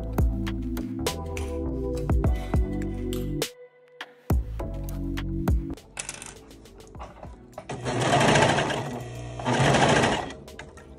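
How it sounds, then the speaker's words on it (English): A serger overlock sewing machine stitches the waistband and leg seams of kids' shorts, running in loud whirring bursts that start and stop, with a brief pause and quieter handling sounds between runs. "And now we are just gonna serge."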